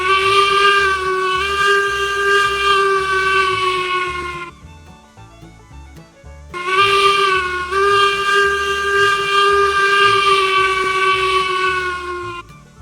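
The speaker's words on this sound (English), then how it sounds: "Let's go ahead and hear that whistle." A steam locomotive whistle in the video game Railroads Online blows two long, loud, harmonically rich blasts separated by a short gap, with a soft hiss and rumble underneath.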